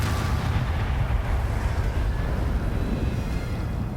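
Bombarda explosion spell in a Harry Potter video game, a loud, sustained rumbling blast with dense low booms and crackling debris rolling on for several seconds.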